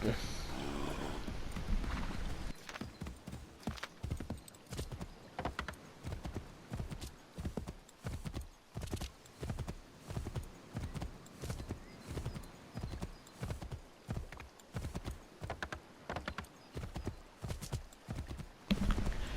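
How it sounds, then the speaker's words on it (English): Horse hooves pound in a fast, steady galloping rhythm for a long stretch in Assassin's Creed III Remastered, loud and close, with a brief horse whinny at the start. "I need to borrow your horse for a minute"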